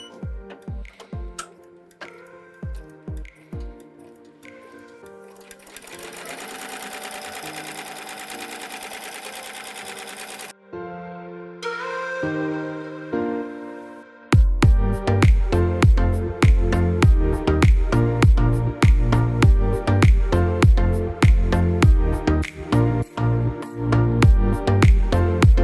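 A multi-needle embroidery machine stitches a logo on the back of a cap held in an 8-in-1 hoop. It opens with a few clicks and a steady whir, then settles into loud, rapid, rhythmic needle clatter that runs on without talk.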